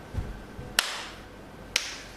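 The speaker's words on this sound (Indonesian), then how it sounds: "Tepuk tangan malas." Two slow, isolated hand claps given half-heartedly, spaced about a second apart, each a short dull slap over a quiet room.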